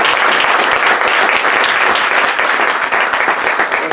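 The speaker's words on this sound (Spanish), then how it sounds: "un súper aplauso" An audience at a university open day lecture on Jewish education applauding the speaker, loud, dense and sustained clapping throughout, close and without talk.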